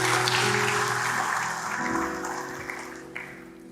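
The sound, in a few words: congregation applause in church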